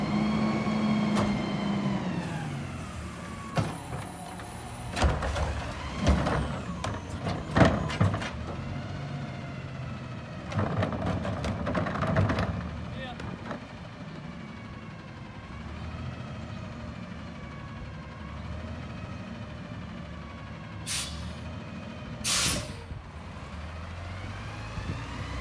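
A garbage truck works along a street, its diesel engine idling and revving, with repeated sharp hissing bursts from the air brakes and clanks, some loud and close, others fading.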